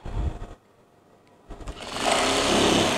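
A sewing machine stitches children's clothing in two motorized runs, a short burst at the start and a longer, steadier whir after a brief pause.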